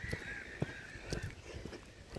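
Geese honk and squabble beside a canal, with several loud, sharp honks and squawks in quick bursts over a steady nasal bird call and faint outdoor background.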